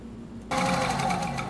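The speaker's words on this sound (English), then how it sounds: "these machines can sew slow and accurate if that's what you like, and they'll go at a fair clip as well" An antique Singer sewing machine starts up after a quiet moment and runs steadily at a fair speed, its close, even mechanical whirr and rapid stitching rattle continuing to the end.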